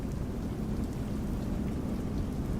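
Rain in Microsoft Flight Simulator 2024 hisses steadily and densely with a low rumbling wash, continuous and fairly loud, with no talking.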